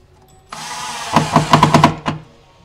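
A power driver tightening screws into an Ikea Trofast wall storage bracket, a short run of close, sharp whirring pulses with a few quick knocks in between.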